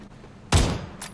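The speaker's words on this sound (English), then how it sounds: "How fast can you shoot the Winchester," A single sharp, loud Winchester rifle shot rings out close in the PUBG video game, with a short fading tail and a fainter second burst just after.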